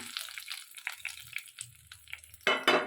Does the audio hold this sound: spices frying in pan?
yes